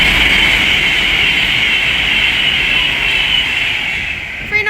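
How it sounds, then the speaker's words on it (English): An Avanti West Coast class 390 Pendolino electric train passing on the West Coast Main Line at Leighton Buzzard, a loud steady rushing roar with a bright hiss, holding level before easing slightly at the end. "The next train to pass by is an Avanti West Coast class 390 Pendolino."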